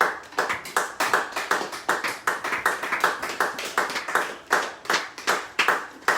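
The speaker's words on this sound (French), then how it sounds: "Est-ce que nous pouvons acclamer pour le Seigneur?" A church congregation claps in praise, a loud, fast and steady run of applause close by with no talk over it.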